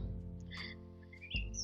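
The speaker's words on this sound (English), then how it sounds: "there's a red robin in a tree" A red robin sings from a tree in a backyard, its chirps and short whistled notes coming clearly through a steady low hum.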